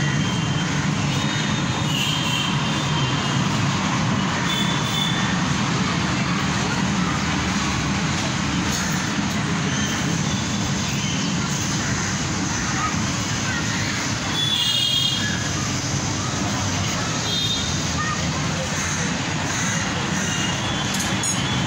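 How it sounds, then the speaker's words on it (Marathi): A steady mechanical rumble and rattle of a toy train running continuously at a Ganpati temple, with people talking and chattering over it. "Toy train started."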